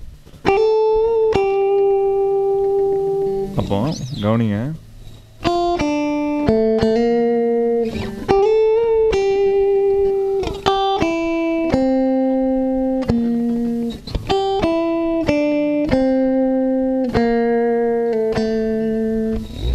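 Electric guitar played with string bends and slides that imitate the gliding tone of a veena, a continuous run of sustained melodic notes with pitch swoops, loud and upfront with no talking.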